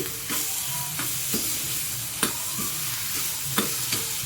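A tempering is stirred into a cooked mixture for a koshimbir salad with the flame off. Spoon scrapes come at a regular pace about once a second, with faint sizzling and no speech.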